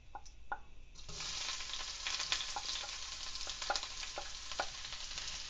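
Onions drop into hot oil with popped mustard seeds and fenugreek, bursting into a close, steady sizzle dotted with sharp crackles and small spits as they start to fry.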